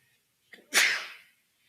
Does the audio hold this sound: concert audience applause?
no